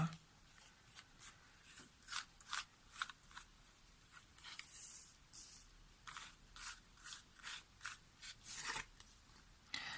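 Tarot cards shuffled by hand, a quiet series of soft rhythmic riffling bursts, each repeating about every half second, close and clear with no talk over them.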